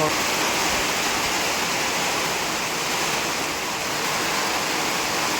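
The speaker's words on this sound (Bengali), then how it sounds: "তো দেখতে পাচ্ছ বৃষ্টি কিন্তু এখন ভালোই জোরে চলে আসছে।" Heavy rain pours steadily outdoors near a farmyard, a dense, constant hiss filling the whole clip without break, close and loud with no voices.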